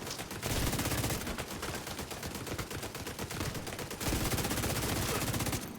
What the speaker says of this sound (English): Weil is shooting me the whole time